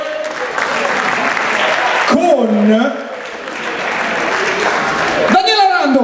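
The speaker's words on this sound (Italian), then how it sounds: "un applauso per favore" Audience applause for a band at an outdoor blues festival, a steady broadband wash of clapping that carries through most of the clip, with a voice speaking over it briefly in the middle and near the end.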